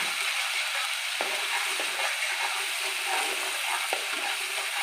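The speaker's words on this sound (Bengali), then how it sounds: "একটু ভালো করে কষিয়ে নেব" Fish for doi katla, a Bengali curd-based katla curry, sizzles steadily in hot oil with spices while being stirred, with a continuous close frying hiss and a few sharp scraping clicks from the spatula.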